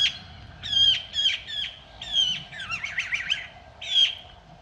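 A magpie near a female blackbird's nest gives a run of harsh, chattering squawks in repeated bursts, loud and close, with no other sounds.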